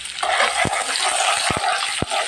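Chopped onion hits a hot pan with dried chilies and sizzles steadily, a bright continuous fry with a few sharp clinks of a spoon against the pan, close and loud, no voice.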